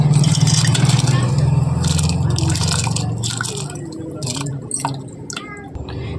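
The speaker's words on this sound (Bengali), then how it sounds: "এর মধ্যে বের আমি চাল ভিজানো চালটা সব দিয়ে নেব" Soaked rice for jorda polao pours into a pot of hot water, with steady watery rushing and bubbling, then scraping and sloshing as it settles, close by and without talk.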